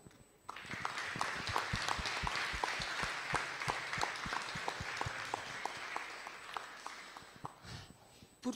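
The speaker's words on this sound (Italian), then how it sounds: "a cui va il nostro applauso" Audience at a public event in Morcone applauding, a steady burst of clapping that starts abruptly, holds at an even level, then thins out toward the end.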